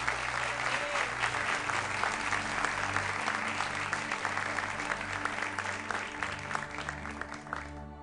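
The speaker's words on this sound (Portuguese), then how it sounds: "Você pode aplaudir ao Senhor bem forte" A church congregation applauds during a worship service, dense steady clapping from many hands close and loud for several seconds before tapering off at the end.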